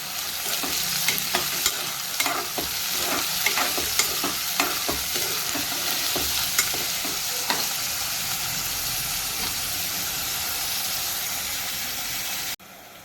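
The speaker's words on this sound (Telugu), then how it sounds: "ఇవి నూనెలో దూరగా ఫ్రై చేసుకోవాలి." Sliced onions frying in hot oil for a gongura mutton curry, a steady broadband sizzle with frequent clinks and scrapes of a spoon stirring the pan, close and loud throughout, stopping abruptly near the end.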